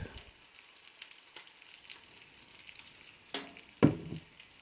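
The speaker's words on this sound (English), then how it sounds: "while our bacon is cooking" Bacon frying in a pan, a faint, steady crackle and sizzle with scattered pops, broken near the end by a couple of sharper clatters from nearby kitchen handling.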